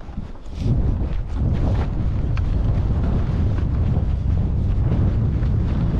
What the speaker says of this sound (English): That fucking wind is fucking horrific, guys.